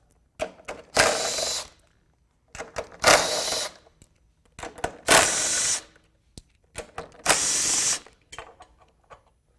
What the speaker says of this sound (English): Now we're going to have to remove these blower housing studs.